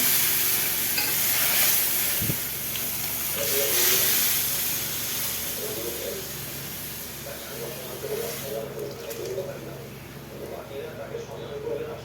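Boiled dal with tomato and green chilli goes into a hot pan and sizzles as it is stirred, a close hiss with scraping spoon sounds, while a voice talks over it.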